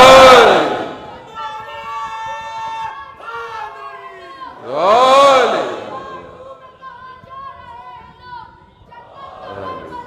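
A crowd at a Muharram majlis chants religious slogans in two loud, swelling collective shouts, with a lone leading voice calling between them, and the chant rising again at the end.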